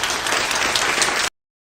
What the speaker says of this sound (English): I'm just muting while they clap because it's so loud.